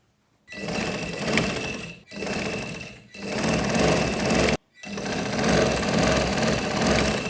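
A sewing machine stitches the back piece of an umbrella frock in four whirring runs, each a steady mechanical hum with a rapid needle clatter, separated by brief silent pauses.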